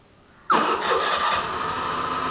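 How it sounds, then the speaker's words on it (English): A motor scooter engine started through an Android phone keyless system catches abruptly after a brief quiet moment, then settles into a steady, loud idle up close with no talking. "the engine starts."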